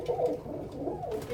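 Pet birds coo softly at treat time in short, low, rolling phrases, close and continuous.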